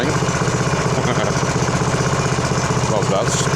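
A Craftsman 7 hp 26-inch snow blower engine idles steadily with an even, low-pitched rumble and chugging rhythm, running close by without letup.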